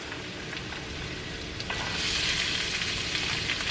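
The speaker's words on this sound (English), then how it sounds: "Love that sizzle." Mushrooms and carrots sizzle in a hot frying pan, a steady close crackle and hiss that swells louder halfway through as more vegetables hit the oil, with no talk over it.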